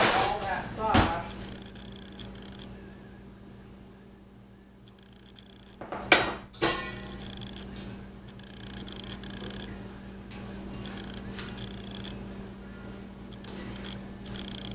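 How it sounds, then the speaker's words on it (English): A utensil scrapes leftover ravioli sauce from a pan, giving a couple of sharp metallic clinks and scrapes around a steady quiet kitchen hum, close by, while a voice speaks briefly. "Scrape out all that sauce."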